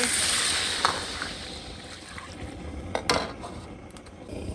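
Water is poured into a pot of luffa soup with oil and garlic, giving a steady close hiss and splash with a couple of brief clinks of cookware.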